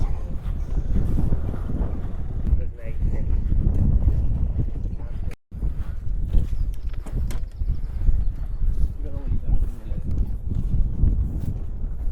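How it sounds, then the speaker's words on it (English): Wind gusting across an overcast outdoor car boot sale, a steady loud rumble buffeting the microphone for the whole stretch, with a brief dropout midway and faint crowd sounds beneath. "a bit windy here today, a bit overcast"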